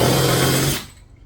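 A power drill with a 1/2 inch bit bores a hole through the hull of a Brooklyn PK13 kayak, a loud steady whirring whine that runs close up for under a second, then cuts off abruptly.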